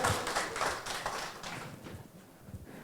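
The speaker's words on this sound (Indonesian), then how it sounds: "Oke, buat tepuk tangannya." A press conference crowd claps for an arriving guest, a brief burst of scattered hand claps that is strongest at first and then thins out and fades.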